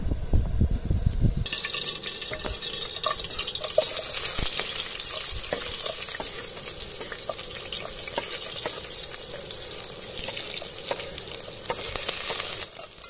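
Onions fry in about three spoons of hot oil for a chicken curry with curd. A loud splash starts it, then a dense, steady sizzle continues close by, with small crackles and no talking.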